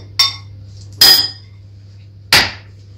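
Curd dropped into a dish, three separate sharp clinks and knocks spaced about a second apart, close and clear against a steady low hum, no talking.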